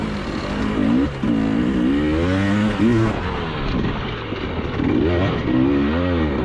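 A hard enduro motorcycle engine revs up and down in repeated rising and falling sweeps, loud and close, with a dense mechanical roar and no voices.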